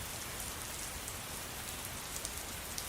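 Light rain patters steadily and softly on a surface, a dense even hiss with scattered drops, quiet and continuous throughout; no thunder stands out.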